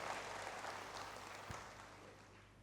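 Church congregation applauds during a sermon, a faint, steady patter of many hands clapping, heard from a distance with no talking over it.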